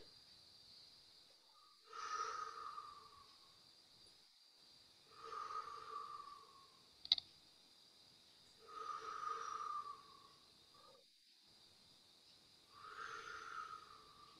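Slow, deep breaths during a Pilates shoulder and neck stretch, four long airy exhales evenly spaced and close by, with quiet pauses between them and one faint click.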